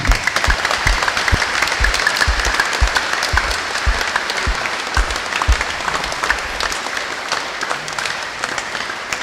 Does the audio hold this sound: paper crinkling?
no